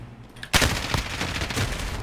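Rapid bursts of automatic gunfire in the online shooter Modern Warfare, a sharp volley breaking in after half a second and continuing as dense, loud rattling shots to the end.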